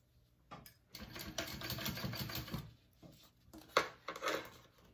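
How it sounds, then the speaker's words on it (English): A sewing machine runs a steady top-stitching pass along a wallet pocket, a fast mechanical needle chatter for about two seconds, followed by quieter handling of fabric pieces and a few soft knocks. "go ahead and top stitch this piece right here, this top"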